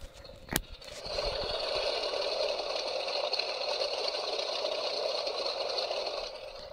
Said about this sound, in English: Then we're going to do engine start.